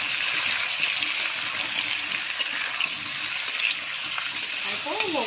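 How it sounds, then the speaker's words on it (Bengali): Pumpkin pieces frying with onion in a pan, a close, steady crackling sizzle with occasional scrapes and stirring clatter, no talk over it. "এখন আমি কুমড়োটা দিয়ে দিই। দেখেন গাইস, আমি এরকম করে ভেজে নিই।"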